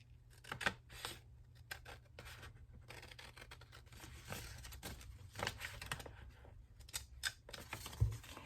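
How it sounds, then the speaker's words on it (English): Scissors cutting paper for a botanical junk journal, a series of quiet, close snips and paper rustles in an irregular rhythm with brief pauses between cuts. "And then let's cut that off first."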